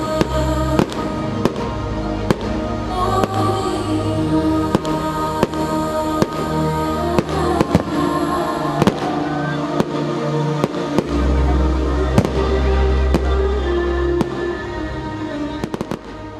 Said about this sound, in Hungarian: nem maradhatott el a szemet gyönyörködtető tűzijáték sem Dunakeszin